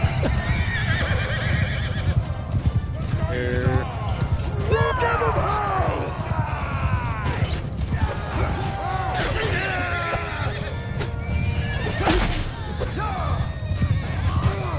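A horse whinnies repeatedly over steady clip-clopping hooves and background music in the game Mount & Blade II: Bannerlord, with someone talking over it.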